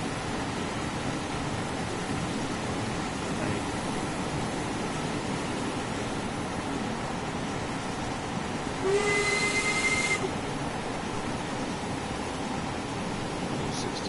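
A steam locomotive in the Train Sim World 5 game, West Cornwall local line, hisses steadily, then gives one short, loud whistle blast of about a second before the hiss carries on alone.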